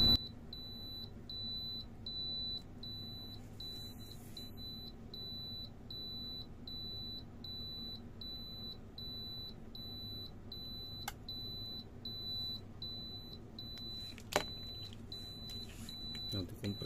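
Rapid, evenly spaced high-pitched electronic beeps from a Carel refrigeration controller alarm repeat continuously over a low mechanical hum, with a couple of faint clicks.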